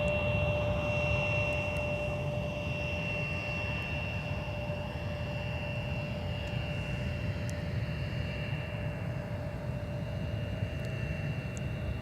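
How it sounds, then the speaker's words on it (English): An Olympia Aviation Boeing 737 jet at Minneapolis–St. Paul airport gives a steady, distant engine roar with a faint whine, constant throughout with no talk. "There's our Olympia Aviation 737 with the Detroit Tigers"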